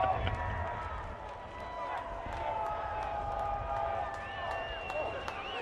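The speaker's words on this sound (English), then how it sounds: "A passionate crowd here." A passionate stadium crowd at a UFL football game, DC Defenders at Arlington Renegades, roars as a steady, distant wash of noise with scattered whistles and shouts across the whole stretch.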